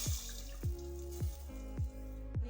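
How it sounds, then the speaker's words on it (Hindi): Water poured into a pot of well-fried onions for cumin rice, heard as five evenly spaced wet splashes about half a second apart, fairly close, with no talking. "अब हम पानी ऐड करते हैं।"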